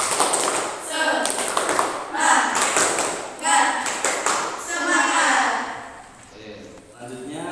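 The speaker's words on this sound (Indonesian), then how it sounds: "kita tepuk semangat dulu ya semuanya" A classroom of students performs the rhythmic 'tepuk semangat' clapping chant at the start of a lesson, with patterned bursts of claps mixed with chanting voices throughout.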